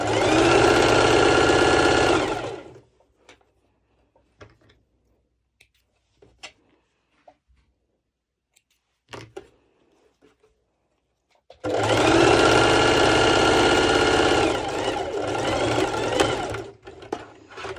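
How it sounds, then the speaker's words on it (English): A heavy-duty Singer sewing machine stitches bikini fabric in two loud, steady bursts of rapid mechanical whirring, separated by a quiet stretch with small clicks and handling noises. "My Singer is a heavy duty, so it goes really over quite some thick layers"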